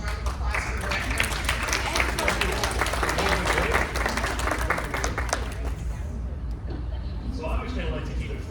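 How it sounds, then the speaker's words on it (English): An audience at a Detroit forum event breaks into a sustained round of applause for the director, dense clapping and crowd noise that thins out near the end. "Can we all give a very special round of applause for the director?"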